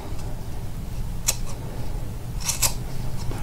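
Scissors snip at yarn pom poms in a few sharp, close clicks: one cut early on and a quick pair later, with steady room noise underneath.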